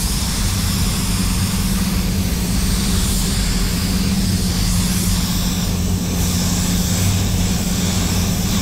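A spray gun applies PPG LVC-105 clearcoat to a BMW X5 with the pressure turned up to about 35 psi. Its loud, continuous airy hiss and roar holds steady throughout, close by and with no talking.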